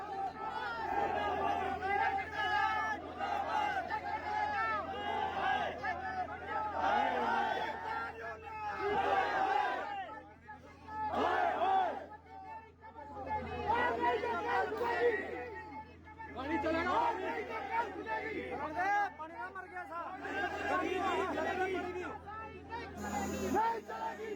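Crowd of protesting farmers at a BJP programme venue, a dense babble of many voices rising and falling, with a single voice talking over it at times.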